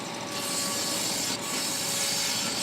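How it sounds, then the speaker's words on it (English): A table saw cuts through a wood piece with a steady, loud rasping whine that holds unbroken from start to finish. "I'll take it through the table saw one more time to make sure both sides are still parallel."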